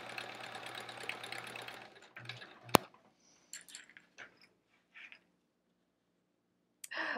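A home sewing machine stitches small quilt pieces with a steady, close mechanical run for about two seconds, then stops; scattered clicks, a sharp snap and light handling noises follow in near silence.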